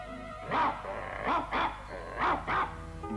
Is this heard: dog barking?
yes